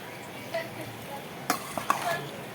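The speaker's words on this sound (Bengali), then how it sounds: "চিকেনটা বসানোর জন্য আলু পেঁয়াজ তেলে দেওয়া হলো" Potatoes and onions cook in hot oil in a pan for a chicken and mutton curry. A soft, steady sizzle runs under a few quick stirring scrapes, close and brief, with no talking.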